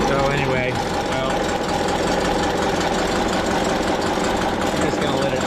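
A 1961 VW Beetle engine, with a heat exchanger, idling in a steady, continuous loud run with a faint knocking texture throughout.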